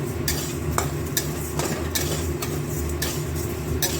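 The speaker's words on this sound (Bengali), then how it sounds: "মুগ ডালটা প্রথমে কড়াইয়ে এইভাবে শুকনো ভেজে নেব।" Moong dal dry-roasting in a wok, stirred steadily so the spatula scrapes the metal in sharp, regular strokes roughly every half second over a soft, even rustle of the grains, with no talking.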